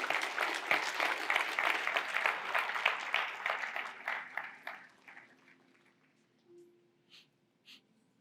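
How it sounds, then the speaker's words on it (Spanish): A church congregation claps hard together for several seconds, then the applause thins into scattered claps and fades to near silence with a few isolated pats at the end. "Dale un aplauso a Dios bendito, una ofrenda de palmas."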